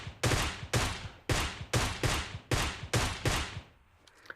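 Rapid volley of about nine sharp gunshots in a video game shootout, evenly spaced and loud, each shot ringing out briefly before the next, then fading to quiet.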